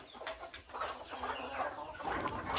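Broody desi village hens cluck in a rearing shed, a steady stream of soft, overlapping clucks with a few sharper calls, fairly close and continuous throughout.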